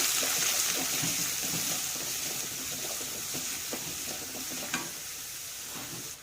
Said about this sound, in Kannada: ಈರುಳ್ಳಿ ಹಾಕೋತೀನಿ. ಫ್ರೈ ಮಾಡ್ಕೊಳ್ಳಿ ಚೆನ್ನಾಗಿ.